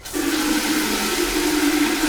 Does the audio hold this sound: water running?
yes